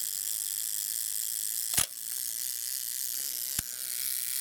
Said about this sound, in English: Set the self timer off, get that lovely spring sound, and obviously it counts for about 10 seconds and then fires the shutter at the end.